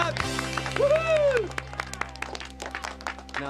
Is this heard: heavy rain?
no